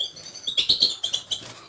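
Young goldfinches and canaries of the year, a few to a flight cage, give quick high chirps and twittering calls in a steady close chatter with no talk over them.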